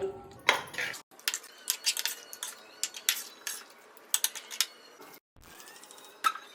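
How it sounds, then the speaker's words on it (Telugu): Spoon scraping and clinking against a pot while fish curry with tamarind broth is stirred, a run of close, sharp metallic taps and scrapes with a brief pause near the end. "పులుసు అంతా కలిసినంత వరకు కలబెట్టుకోవాలి."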